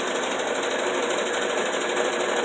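A sewing machine stitches a seam through fabric and plastic for a pad bag, a steady, fast mechanical rattle running continuously and loud, close up with no talk.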